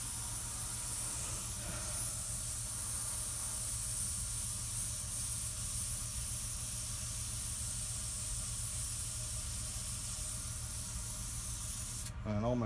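An airbrush spraying paint gives a steady, close, hissing rush of air that runs unbroken throughout, with a low hum beneath it, and cuts off with a brief click near the end.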